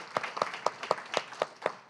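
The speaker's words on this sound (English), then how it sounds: "a round of applause for Bruno for all of his work" Audience applause at a poetry reading, heard as sparse, evenly spaced claps from a few hands, fairly close, with no voices over them.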